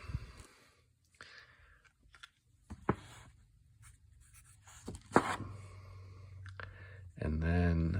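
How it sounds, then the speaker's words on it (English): A pen writes an I Ching hexagram number on paper, with soft scratching strokes and light taps in short bursts, close and quiet, with some faint breathing and a soft voice near the end. "Write that down."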